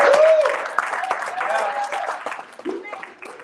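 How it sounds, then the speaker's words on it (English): An audience claps and cheers at a motivational talk, a scattered, lively burst of hands under excited voices and shouts, loud at first and tapering off over a few seconds. "when I say clap it up, I say clap it up for yourself."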